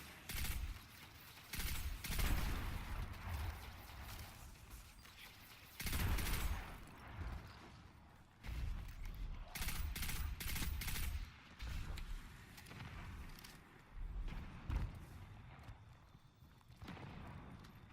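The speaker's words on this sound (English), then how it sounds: "Let me just clear these guys from shooting me." Gunfire from enemies in the video game Destiny 2, bursts of rapid shooting that come and go in loud clusters with quieter gaps between.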